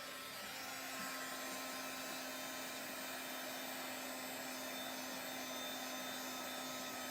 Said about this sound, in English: Pentop products are meant to work with heat tools, and it would help if I had my gun on.